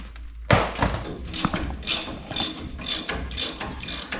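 A socket ratchet clicks rapidly while tightening nuts on a truck's Rough Country 4-inch front lift kit, a close, dry ratcheting in regular strokes after an opening clunk.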